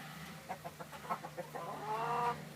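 Chickens cluck in a quick run of short, close, moderately loud calls, ending in a longer, drawn-out squawk, with no talk over them.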